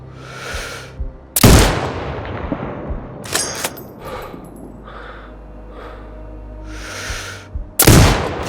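Sniper rifle shots in Sniper Ghost Warrior Contracts 2 boom out loudly, with one shot early and another near the end, each with a ringing tail and softer clicks and game sounds in between.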